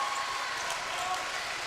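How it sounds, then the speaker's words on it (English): Crowd applause at a high school boys basketball quarterfinal, a dense continuous wash of clapping from the gym stands, fairly steady and moderately loud throughout the short stretch. "A good nice round of applause here from"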